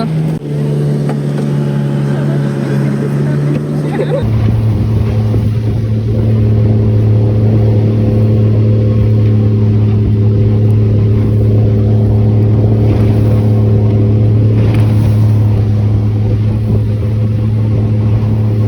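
A motorboat carries passengers in life jackets on a river, its engine droning loudly and close, then rising to a higher, steadier roar after a few seconds and holding there with the rush of wind and water.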